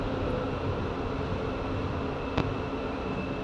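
An electric commuter train running in Kuala Lumpur, a steady broadband rumble and rushing hum from inside the car, continuous and even with one brief click partway through.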